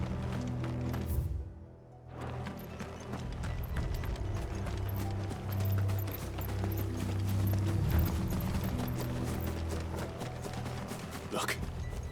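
Horses gallop in Final Fantasy 16 with a rapid, steady clip-clop of hooves, close and continuous over a low rumble, while voices speak now and then.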